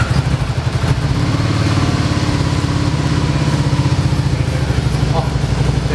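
A 2013 Can-Am three-wheel motorcycle idles nearby in a motorcycle shop, its engine giving a steady, even low rumble that runs unbroken throughout.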